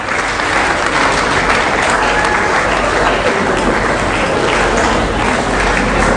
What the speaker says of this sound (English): Please a round of applause as he takes his seat.